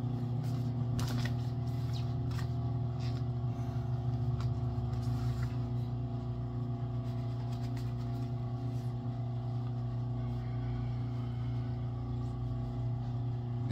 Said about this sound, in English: I'm going to sew these two pieces together like this